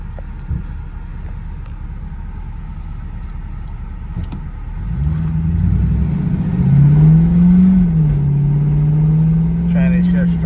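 A 1971 restomod Firebird accelerates with a loud, rising engine rumble; its note climbs, drops sharply at a transmission shift, then climbs again, heard close from inside the car.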